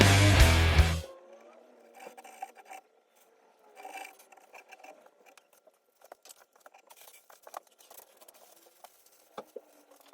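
After a loud opening burst, faint scratchy rubbing and light tapping come from sanding over sawdust and super glue filled areas, in short, uneven strokes.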